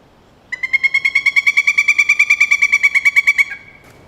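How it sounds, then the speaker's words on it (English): A pileated woodpecker gives a long, rapid series of loud, ringing call notes, about two dozen in steady rhythm over three seconds, clear and close with no other sounds. "This is the pileated woodpecker, the largest of its kind in North America."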